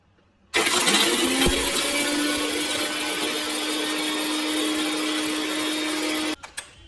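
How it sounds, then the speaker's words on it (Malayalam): A mixer grinder jar powders five or six cardamom pods, starting abruptly into a steady, loud whirring motor drone with a constant hum that runs unbroken for about six seconds, then cuts off, followed by a few small clatters. "ആദ്യം ഒരു 5-6 ഏലക്കായ എടുത്ത് ഒരു മിക്സിയുടെ ജാറിലോട്ടിട്ട് നന്നായി പൊടിച്ചെടുക്കുക"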